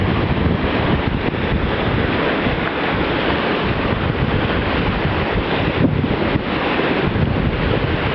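Ocean waves breaking on a beach in strong wind, a loud continuous roar of surf mixed with heavy wind buffeting against the microphone, with no voices.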